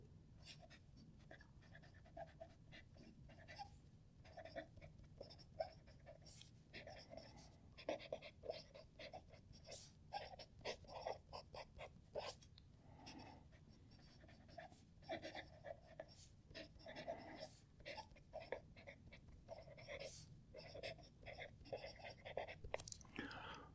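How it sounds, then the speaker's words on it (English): A fountain pen nib scratching across paper while writing out a sentence, giving soft, close, irregular strokes with quiet scratchy texture and little pauses between words. "it's another beautiful sound coming off that nib"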